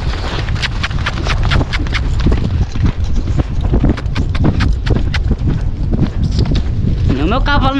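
Horse hooves clip-clop at a steady rhythm on a vaquejada track at the Haras Parque Guarani, close and continuous, mixed with wind and voices talking over them.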